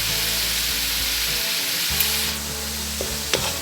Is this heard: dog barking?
no